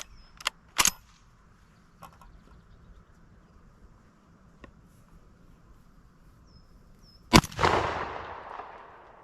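A regular round fired from a gun, heard as one sharp, loud crack with a reverberating tail, preceded by a few fainter pops, outdoors around Fourth of July.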